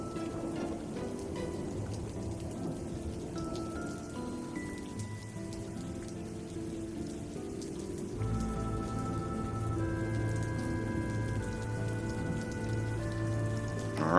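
Rain and storm ambience for a Dungeons & Dragons tabletop session, steady dense rainfall hiss with low rumbling beneath and tonal music lines layered over it, continuous and fairly quiet, no voices.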